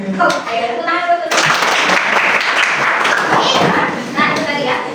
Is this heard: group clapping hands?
yes